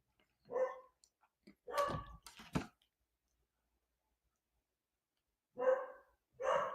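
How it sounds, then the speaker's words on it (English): Several barks from pet dogs, in two short clusters separated by a long silence, moderately distant and fairly faint. "And my dogs are barking."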